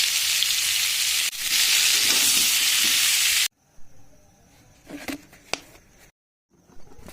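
Potatoes fry in hot oil in a pan, seasoned with salt and turmeric, giving a loud, dense, close sizzle for a few seconds before it cuts off to quieter clatter and faint handling noises.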